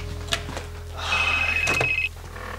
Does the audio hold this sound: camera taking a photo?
no